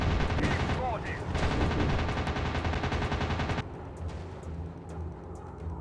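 Aircraft machine guns fire in rapid sustained bursts during a World War II dogfight in a video game, loud and close, then cut off, leaving engine drone beneath.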